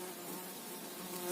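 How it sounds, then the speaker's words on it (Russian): Hundreds of flies brought back from a spring buzz indoors in a dense, continuous insect drone, close and fairly faint, with no voices over it. "Припер каких-то мух с родника. Сотни, наверное."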